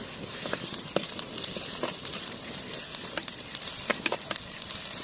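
Ginger-garlic paste and curry leaves sizzling in hot oil for a Godavari-style village mutton curry with raw cashews, a steady close hiss dotted with small pops and crackles, no talking.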